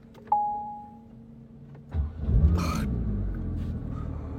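A latest-generation Porsche 911 GT3 gives a short beep, then its engine cranks and catches with a loud, sharp bark before settling into a steady, throaty idle close by.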